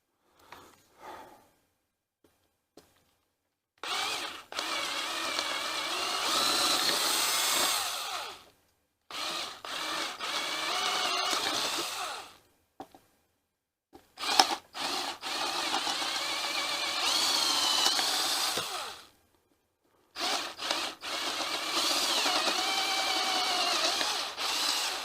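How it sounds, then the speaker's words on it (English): A power drill bores holes in a control panel in four long, steady whining bursts, each several seconds long, separated by brief silences, loud and close. "let's start drilling all these"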